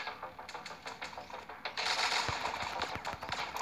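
Tank gunfire in the online battle game Tank Raid Online comes as rapid, rattling shots in a steady stream, growing louder and denser over a bed of game noise with no speech.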